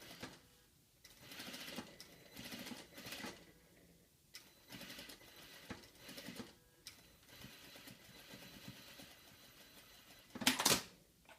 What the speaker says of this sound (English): Stitching on the right side, holding down the seam allowance.